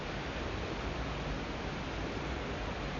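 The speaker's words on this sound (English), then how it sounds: "You can hear the thundering of the water going underneath the bridge." Water thundering beneath a bridge near Wet Sleddale Reservoir, a dense, constant roaring rush with no letup and no voices.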